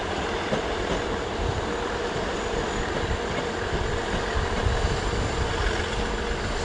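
Class 159 diesel multiple unit in South Western Railway livery at Clapham Junction, producing a continuous even engine drone and rail rumble with light wheel knocks, close and steady, without speech.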